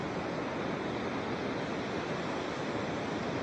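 Ocean surf washes onto a long, open beach as a steady, broad rushing roar, fairly faint and constant for a few seconds with no single wave standing out and no voices.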